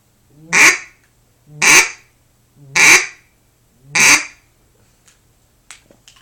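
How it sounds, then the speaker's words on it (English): Four loud, evenly spaced quacks from a duck call, close and clear, then a few faint clicks. "how to do a string of quacks or consecutive quacks"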